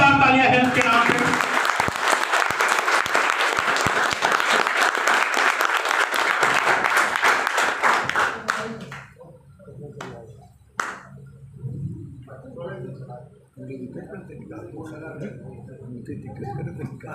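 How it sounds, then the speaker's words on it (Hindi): A seated audience at a health and wellness product seminar bursts into loud, dense applause for about eight seconds; it then fades into scattered claps and a presenter's amplified voice speaking. "एक बार हो जाए जोरदार तालियां हेल्थ के नाम पे"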